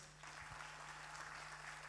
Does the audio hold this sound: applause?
yes